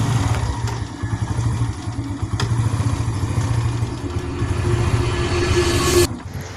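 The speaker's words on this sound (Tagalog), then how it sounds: "kailangan natin painitin muna ang makina nito bago lumarga." A heavy big-bike motorcycle engine warming up, idling steadily with a low rumbling throb and light mechanical clatter, cutting off abruptly near the end.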